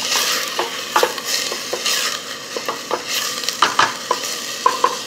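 Oil sizzles in a pan while something is sautéed, a steady frying hiss punctuated by repeated light scrapes and taps of a utensil against the pan, close and without speech.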